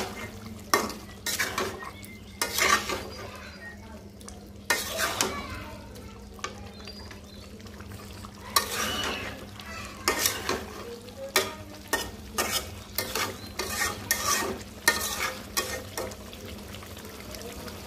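Rohu fish curry with potatoes, tomato and peas cooks in a pan while a spoon stirs it, producing repeated scraping strokes and clinks over a low background sizzle.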